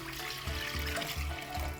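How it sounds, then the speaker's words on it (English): Water and apple cider vinegar pour into a cooking pot for pickling red cabbage, a steady splashing, gurgling flow with low rhythmic glugs as the liquid streams in. "Then I have an equal mix of water and apple cider vinegar."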